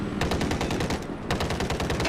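Rapid bursts from a 25mm helicopter cannon in Battlefield 4, on a PS4 scout helicopter, firing steady rhythmic rounds close and loud, with a brief pause near the middle before the fire resumes.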